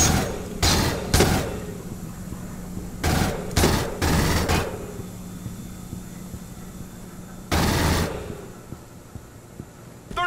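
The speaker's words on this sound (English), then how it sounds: "Bring in the smart gun!" A smart gun fires in Aliens: Colonial Marines, in loud, close automatic bursts of varying length separated by pauses, with a steady low hum underneath.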